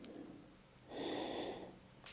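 During a gentle yoga flow, a single soft breath is drawn in, then let out in a longer, slightly louder exhale, heard up close and quiet with no talking.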